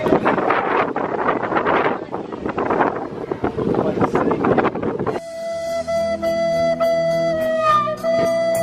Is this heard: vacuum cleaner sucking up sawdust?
no